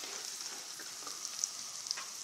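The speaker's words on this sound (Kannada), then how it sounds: "ಈಗ ಈ ಹುರುಗಡಲೆನ ಹಾಕೋಣ ಮತ್ತು ಒಣ ಕೊಬ್ಬರಿ ಚೂರುಗಳನ್ನು ಹಾಕ್ತಾ ಇದ್ದೀನಿ" Roasted gram and dry coconut pieces fry in a pan for garlic mandakki, making a soft, steady sizzle with a few light pops, faint and without talking.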